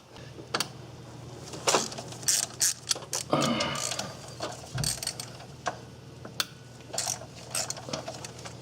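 Ratcheting clicks of a socket wrench loosening 10mm bolts from a Ford Ranger's A/C components, close bursts of rapid clicking separated by short pauses, with some metallic handling noises.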